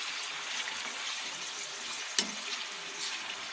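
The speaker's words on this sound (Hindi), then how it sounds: "अब इसमें डालती हूँ चिकन, पूरी इसे फ्राई करना है चिकन को" Chicken pieces frying in plenty of oil in a karahi for a Shinwari-style dish, a steady hissing sizzle with a brief sharp clink partway through.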